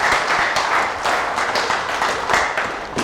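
A church congregation claps and cheers together, a steady, dense burst of applause filling the room for a few seconds with no talk over it.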